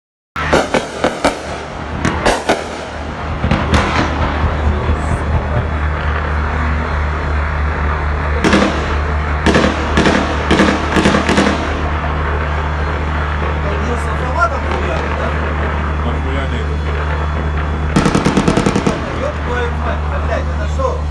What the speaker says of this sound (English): in which shots and explosions are heard in the Rogachevka village